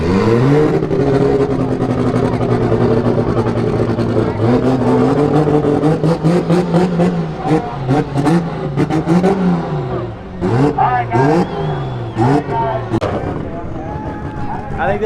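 2JZ-swapped Nissan S14 sitting on two-step launch control at a drift event: a loud, sustained engine drone breaks into rapid popping and banging bursts and rev swings, with people talking nearby.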